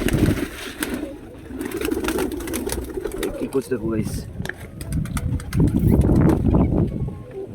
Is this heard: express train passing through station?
no